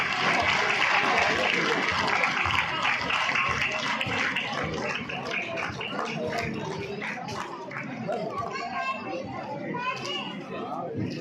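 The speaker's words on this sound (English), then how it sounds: "Applause everyone." Audience applause at a school annual day function, steady and fairly loud throughout, mixed with children's chatter and voices from the crowd.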